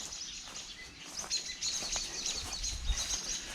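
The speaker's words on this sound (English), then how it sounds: "the birds aren't happy either" Several birds chirp and call in a yard full of old parked Mopar cars, with scattered, overlapping tweets at moderate volume over outdoor background noise.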